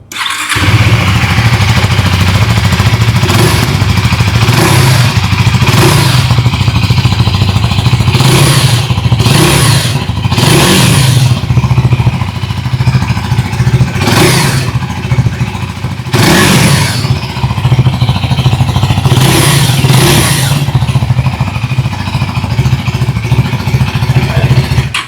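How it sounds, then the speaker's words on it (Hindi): A 2025 KTM Duke 390 motorcycle revs its exhaust in a loud, steady engine drone, with repeated sharp throttle blips and short bursts rising over the idle throughout. "अभी ड्यूक 390 की एग्जॉस्ट नोट सुन लेते हैं।"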